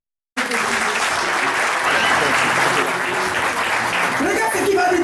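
A church congregation applauding: steady, loud, sustained clapping from a crowd, with voices mixed in.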